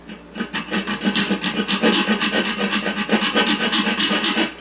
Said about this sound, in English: use a hacksaw just to cut off a little bit so that it's able to snap into place here